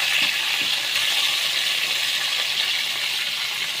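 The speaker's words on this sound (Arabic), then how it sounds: "هندي اللحمه الاول تشويحه لوحدها مع الدهن كده والزيت" Beef pieces sear in a pan with their own fat and oil, giving a steady, loud, close sizzle with a dense crackling hiss that runs throughout with no talking.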